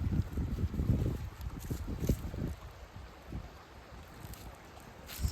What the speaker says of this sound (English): Y'all hear that water?